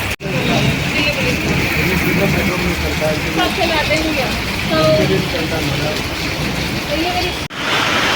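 Rain falls outdoors in Okhla Phase 3, Delhi, a dense continuous patter and splash filling the scene, with people talking over it throughout.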